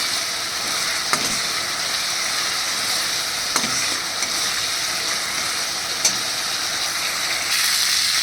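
Potatoes and taro sizzle in hot spiced oil in a pan, a loud, continuous frying hiss close up, broken by a few sharp crackles and pops as the pieces are stirred.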